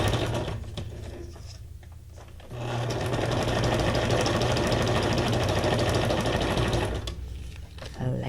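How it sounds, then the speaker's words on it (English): A sewing machine stitches at close range, running in a steady buzzing whir that starts after a short quiet pause. It slows and stops near the end of the run, with no talking over it. "Isn't the sound of the sewing machine, it's like so soothing to me."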